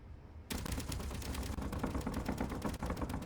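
Space Engineers turrets firing in a dense, continuous storm of rapid bullets that bursts in abruptly and stays loud, a steady machine-gun clatter with no pauses.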